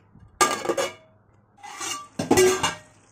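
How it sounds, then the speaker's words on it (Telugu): A lid goes onto a cooking pot of cauliflower and potato masala, giving two distinct loud metallic clanks with a scraping rattle between them, close by and with no talking. "ఇప్పుడు మూత పెట్టుకుందాం"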